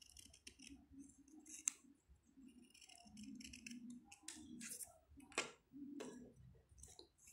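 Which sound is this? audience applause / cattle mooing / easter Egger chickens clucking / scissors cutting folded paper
scissors cutting folded paper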